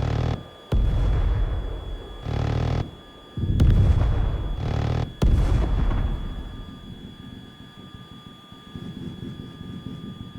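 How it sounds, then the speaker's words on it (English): Aircraft cannons fire at ground targets in the video game Tiny Combat Arena, long loud roaring bursts separated by short gaps, followed by a lower rumbling tail, with a faint steady tone running beneath. "I naturally went ahead and tested out the guns against the ground targets to see its effectiveness"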